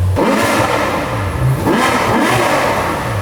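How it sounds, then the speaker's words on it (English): A Ferrari V12 engine revs up and down repeatedly, loud and close, its pitch rising and falling in a few surging bursts. "Shall we give it a few revs?"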